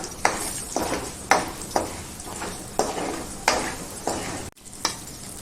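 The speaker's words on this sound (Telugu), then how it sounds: "స్పూను మినపప్పు, ఒక 2 స్పూను శనగపప్పు వేసుకొని ఇలా దోరగా వేయించుకోవాలి" Urad dal and chana dal roasting in a pan, a spatula scraping and stirring in steady strokes about once a second over a soft dry sizzle, close by.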